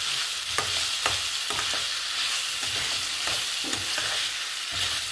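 Tomatoes and green chillies sautéing in a pan, a steady close sizzle with soft intermittent stirring scrapes and taps throughout; no talk.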